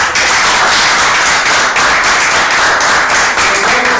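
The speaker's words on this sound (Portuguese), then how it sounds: "uma salva de palmas para você." A loud, close round of clapping closes a local TV afternoon program, rapid steady hand claps sustained evenly throughout with no talk over them.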